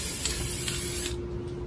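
A chair being spray painted gives off a steady, close aerosol hiss that stops abruptly partway through, leaving a quieter room tone.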